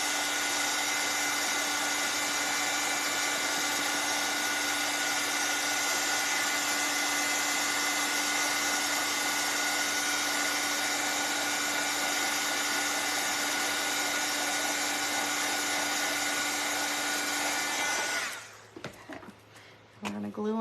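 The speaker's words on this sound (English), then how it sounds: "Let me run the dryer on him." A dryer blowing on a wet, freshly glued gnome figure, a steady close whirring hum that runs on for nearly twenty seconds, then switches off into quiet handling sounds.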